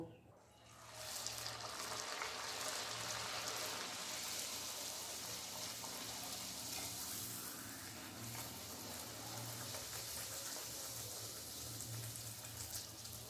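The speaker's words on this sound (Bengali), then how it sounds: "তেল গরম হয়ে গেছে, কচুরিগুলো বেলে নিয়েছি। এবার আমি এক এক করে ভেজে নেব।" Rolled matar kachoris deep-frying in hot oil make a broad, continuous hiss and bubble that swells after a quiet first second, then holds steady and close.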